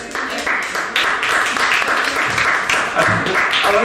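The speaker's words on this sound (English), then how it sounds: "by a show of applause, who would swipe left?" A live comedy show's audience breaks into loud, dense clapping and cheering that swells after the first second and carries on unbroken.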